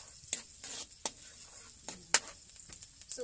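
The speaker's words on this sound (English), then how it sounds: "Sauté lang natin yung garlic" Plenty of garlic sautéing in melted butter, a faint, thin sizzle punctuated by several quick, crisp scrapes and taps of a utensil against the pan, quiet and close with no talking.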